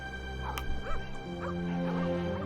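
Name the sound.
dogs barking and whimpering in video game The Pale Beyond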